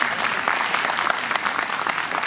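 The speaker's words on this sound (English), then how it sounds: "Can we have a huge round of applause for sir?" Campus audience applauding a guest speaker at a university conversation event, a dense steady wash of clapping throughout, fairly loud and close with no voices over it.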